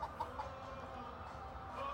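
A chicken clucks in short repeated calls, faint and somewhat distant, over a low steady background hum.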